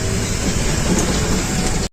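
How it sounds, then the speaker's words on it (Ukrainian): Rome metro train in motion, a loud, steady broadband rumble and rush filling the whole stretch without pause, cutting off abruptly at the end. "Так, ну що, ми вже приїхали на метро."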